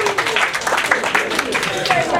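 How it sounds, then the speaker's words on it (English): A room full of people at a nutrition talk claps in a short burst of applause, uneven and lively, with voices and cheers mixed into the clapping. "give yourself a round of applause"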